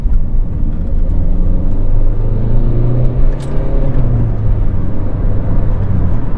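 A Peugeot 208 drives along a road, with a steady low engine drone and road rumble heard from inside the cabin, and the engine pitch shifts slightly as it moves.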